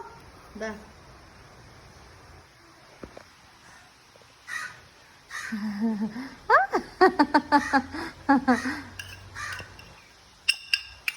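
A crow caws in a quick series of harsh calls, fairly close, with people speaking nearby before and between the cawing.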